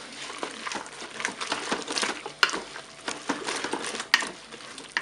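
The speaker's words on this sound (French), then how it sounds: "On mélange." Spaghetti cooked in one pot with aubergines and tomato paste being stirred, with soft scraping and clinking of a utensil against the pot, a steady busy patter and a couple of sharper knocks, no talking.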